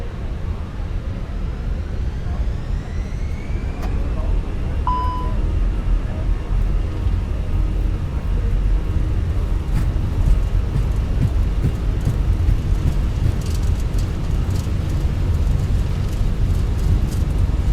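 Airliner takeoff roll down the runway in Microsoft Flight Simulator 2024 on a flight out of Luton, heard as a steady, loud broadband engine roar and rumble that holds throughout without letting up.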